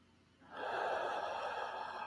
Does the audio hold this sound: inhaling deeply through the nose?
yes